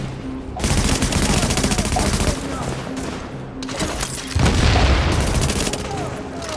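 Sustained rapid gunfire in Tom Clancy's The Division, loud and close, in long dense bursts with a brief pause, mixed with game effects.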